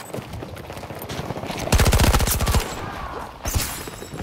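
Automatic gunfire from the SCZ-9 and other weapons in a Battlefield 2042 match: rapid, evenly spaced bursts of loud shots, the heaviest run near the middle, a later shorter burst, over a constant battlefield background.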